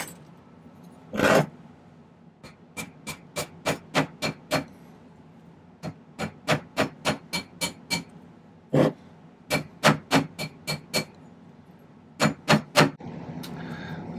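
Sharp metallic hammer taps on a silver half-round wire ring fitted over a steel ring mandrel, struck in quick rhythmic bursts of several blows with short pauses between, close and clear with no talking.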